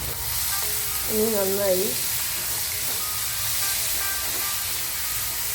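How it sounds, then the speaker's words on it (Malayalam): Finely chopped onions sauté on a high flame with a steady sizzle and hiss, while a voice speaks briefly over the cooking. "നല്ലതായി ചോപ്പ് ചെയ്ത് വെച്ചിട്ടുള്ള സവോള ചേർത്ത് ഒന്നും കൂടി നല്ലവണ്ണം ഹൈ ഫ്ലെയിമിലിട്ട് തന്നെ വഴറ്റിയെടുക്കാം."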